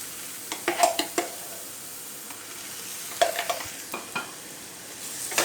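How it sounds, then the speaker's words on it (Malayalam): Masala and ground fennel are sautéed in a pan for green peas curry, with a quiet background sizzle broken by several sharp scraping and clinking strokes of a spoon against the pan in two clusters. "അപ്പോൾ അത് നന്നായിട്ട് നമുക്കൊന്ന് വഴറ്റാം"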